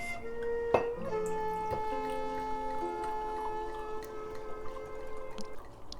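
Sake poured into a cup, a Gekkeikan brand: a clinking tap of glass or ceramic, then a steady, close liquid pour with ringing tones that fades out over several seconds.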